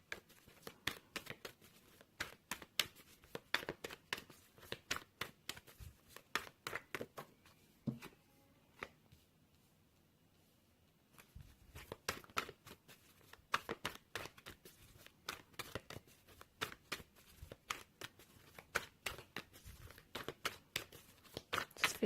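Tarot cards being shuffled by hand, rapid papery riffles and crisp flicks in quick bursts, close and quiet, with a brief lull in the middle before the shuffling resumes.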